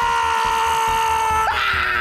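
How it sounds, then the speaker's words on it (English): A cartoon alien character lets out a shrill, sustained scream attack, a piercing continuous wail over a pulsing animated soundtrack that shifts pitch near the end. "Time for you to suffer the wrath of my idiot scream!"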